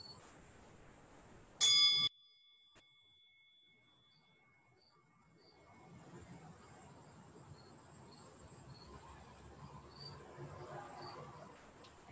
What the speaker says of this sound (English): We're going to listen to our bell.